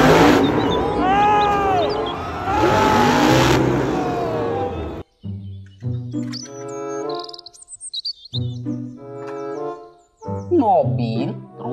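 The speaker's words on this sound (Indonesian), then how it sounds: "Mobil, truk, monster." A toy monster truck's electronic engine sound revs loudly in bursts, followed by chirpy toy tones and short synthetic jingles.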